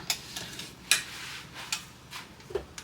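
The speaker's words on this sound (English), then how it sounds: "Can't spread it too good with a wooden spoon because it sucks that" A wooden spoon spreads thick cornmeal batter for waffle cornbread, giving a series of soft irregular taps and scrapes against the pan, close and fairly quiet, with no talk.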